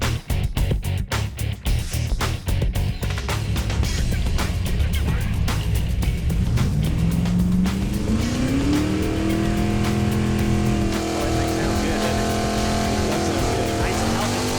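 A 1968 Six Pack Plymouth Barracuda on a drag strip, engine roaring loud under hard acceleration with rising revs through gear changes, rough and close, crowd noise beneath.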